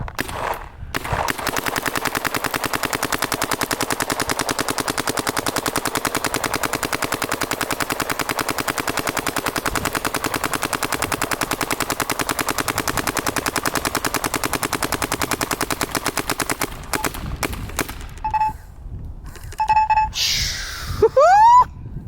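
A DLX Luxe Idol airsoft gun fires long, rapid full-auto bursts with a dense mechanical rattle, then stops and a few short beeps and sweeping tones follow.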